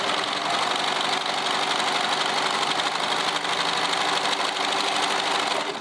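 A serger runs continuously at high speed stitching denim jeans, a loud, steady mechanical whirring and rapid stitching chatter close by, with no voices.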